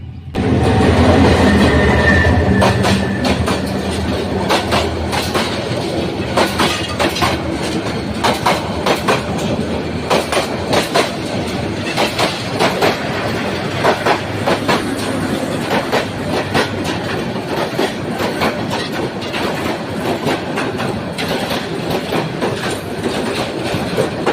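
A moving train rolls on loudly and close, its carriages giving a continuous rumble cut by a rapid, regular clickety-clack of wheels over rail joints that runs the whole time.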